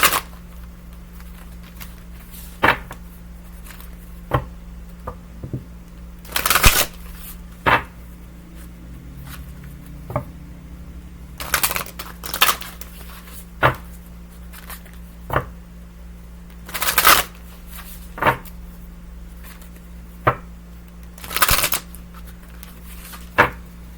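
Divine Beloved Oracle cards being shuffled in repeated riffling bursts with short pauses between, close and crisp over a faint steady background hum.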